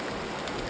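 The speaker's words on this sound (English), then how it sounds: "it's a light misting, freezing rain" Light misting freezing rain falls during a winter storm around a deer stand, a steady, even hiss of fine precipitation that fills the short stretch without a break.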